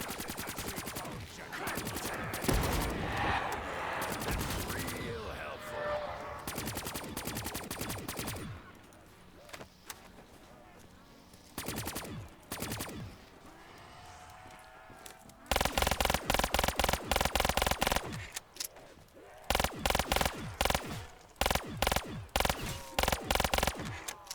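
Zombie shooter gameplay: repeated rapid gunfire bursts, some long sustained automatic strings and choppy clusters of shots, loud and near, with quieter gaps and in-game noise between volleys and a voice briefly in the mix.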